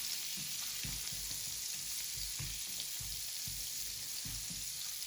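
Garlic frying in butter in a pan, a dense, continuous close sizzle with soft irregular stirring taps underneath, steady and loud throughout with no voices.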